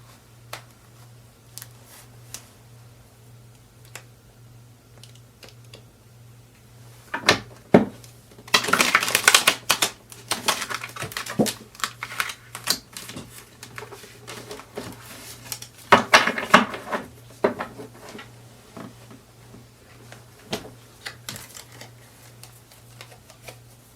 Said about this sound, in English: I am going to go in with my Celestial Tarot cards and I'm going to start shuffling them